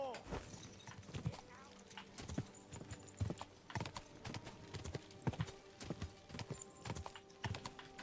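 Steady clip-clop of horse hooves at a walking rhythm in the video game Kingdom Come: Deliverance II, fairly close, with faint background ambience and occasional speech-like sounds beneath.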